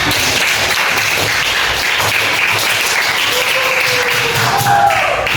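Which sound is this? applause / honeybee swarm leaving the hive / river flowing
applause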